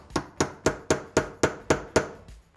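Light tapping on a rifle part, eight even, crisp knocks in a steady rhythm, close and fairly quiet, with no talking.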